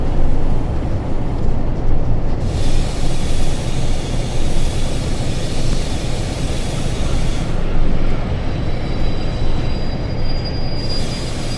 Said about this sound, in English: You have covered the basics of driving a Class 47 diesel locomotive.